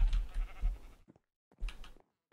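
Sheep in the Minecraft video game bleat twice, two short wavering calls separated by a brief gap, clear and fairly quiet with no talking over them.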